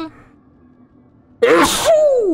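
One loud, sharp sneeze bursts suddenly out of near silence during a co-op Diablo 2: Lord of Destruction gaming session, and a brief voiced trailing sound follows it.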